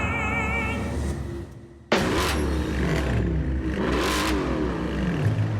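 Car with a 6.2-litre quad-cam V8 engine revs: a steady throaty idle drops away, then a sudden loud burst climbs and surges through several rising and falling revs, close and powerful.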